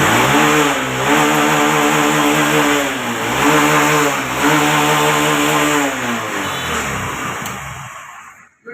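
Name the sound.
Honda motorcycle engine starting and revving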